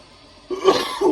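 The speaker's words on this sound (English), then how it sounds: "And you hear me coughing already." A single short cough with a throaty rasp, close and fairly loud after a moment of quiet.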